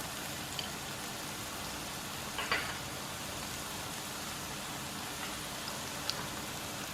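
Turmeric powder sizzling in a pan of oil while cooking a brinjal masala, a steady close crackling fizz with a few small pops, no talking over it.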